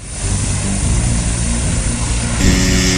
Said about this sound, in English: Air Zermatt's helicopter pilot came in, dropped off the paramedics, and swooped back in to take the patient to the hospital.